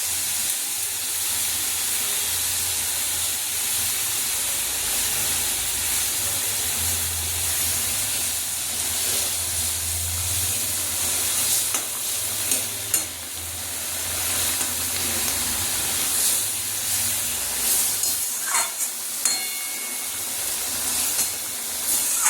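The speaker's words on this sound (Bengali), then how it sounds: "ঝোলটা ফুটে উঠেছে" Mustard fish curry broth boils in a pot before the fish goes in, giving a steady, low hiss with faint bubbling and a few light clinks near the end.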